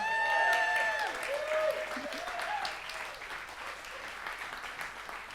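A church congregation applauds as team members are called up during a spiritual service, a soft patter of clapping under a speaking voice and fading gradually.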